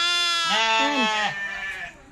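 Sheep bleating at a farm with black sheep, a long wavering call near and loud, followed by a softer overlapping bleat trailing off.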